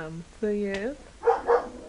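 Dogs barking indoors in a home while a room is shown, a few sharp barks and yips close by, with a person talking over them.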